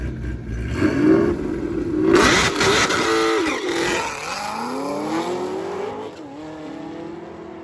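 A Chevrolet Camaro makes a drag racing pass at a street race, its engine roaring loudly as it revs and accelerates. The roar stays continuous, with tire noise and shifting pitch as the car pulls away.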